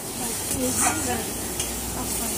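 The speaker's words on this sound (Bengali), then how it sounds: "উল্টো পাল্টা করে চিকেনটাকে ভেজে নেব।" Chicken pieces for chicken tikka masala frying in a pan as they are stirred and turned, giving a steady sizzle with occasional scraping, close and moderately loud.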